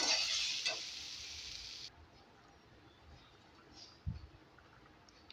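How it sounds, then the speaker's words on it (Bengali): Cumin and ginger paste sauté in a pan with a bright sizzle for about two seconds, after which it cuts to a quieter background broken by a faint click and a low thump. "জিরে আর আদা বাটা দিয়ে একটু কষিয়ে নেবো ভালো করে"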